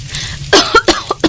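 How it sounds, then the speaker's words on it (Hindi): A woman cooking at a stove coughs hard, four or five loud, sharp bursts in quick succession after a brief quiet start, close and alone. "जोर जोर से खांसने लगती है।"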